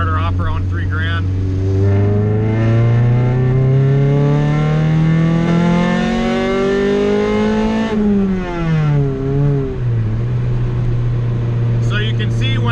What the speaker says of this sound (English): I'm gonna roll on it in 3rd gear